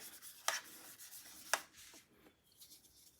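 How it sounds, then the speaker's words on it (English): A brush scrubs watercolor paint into a new palette, giving quiet rubbing strokes with two sharper scrapes, soft and close with no talk. "So I take any paint, it doesn't really matter. And I just scrub it in."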